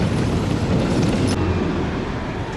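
A CN local freight train with locomotives 4908 and 4902 works cars at a cement plant spur, giving a loud, close, continuous low rumble and rolling roar throughout.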